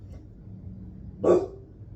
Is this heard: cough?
no